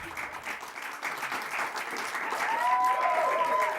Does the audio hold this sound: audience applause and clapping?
yes